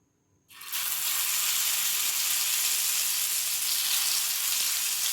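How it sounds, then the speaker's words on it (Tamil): Boiled raw banana frying with curry leaves on a hot dosa griddle gives a sudden loud sizzle that starts within the first half second and then holds steady and close, with no talking. "இப்போ நம்ம இதை நம்ம தோசைக்கல்லை கூட ஃப்ரை பண்ணலாம்."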